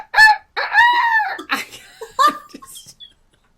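A rooster crows loudly and close by in several rising and falling bursts, then fades out at the end with no talking over it.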